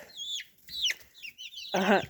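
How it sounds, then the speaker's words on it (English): A young Plymouth Barred Rock cockerel chick, about four weeks old, peeps in a few high, thin chirps, followed by a louder, raspier squawk, close up with no voices. "this is another Plymouth Barred Rock cockerel, and I call this bird pecking at my finger, Tiny Guy"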